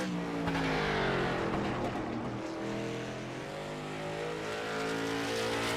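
A stock car's engine revs and accelerates through turns 1 and 2 at Lanier in a racing video game, a loud continuous drone whose pitch rises and falls with other cars faintly layered beneath.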